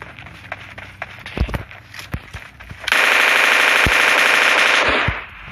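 Gunfire in the mobile game PUBG Mobile Lite: scattered single shots and thumps, then a loud, sustained rapid automatic burst lasting about two seconds before it cuts off.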